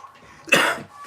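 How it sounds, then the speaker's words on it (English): One short, breathy cough comes through close up, with quiet room sound before and after it. "He's got a bit of a cough I can't shake."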